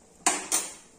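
Ginger tempering stirred in a cooking pan gives two sharp metallic scrapes close together, each fading out, followed by a faint third clink.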